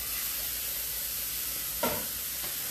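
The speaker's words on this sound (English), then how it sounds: "So I'm gonna go ahead and cook off my ground turkey." Ground turkey sizzling in a hot skillet for chili, a steady close frying hiss with a brief stir or clatter near the end.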